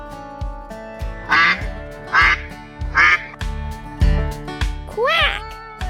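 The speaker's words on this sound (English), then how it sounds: "What sound does a duck make?" Duck quacks repeat in a quick series of four or five loud, nasal calls over a bouncy children's music backing, close and clear.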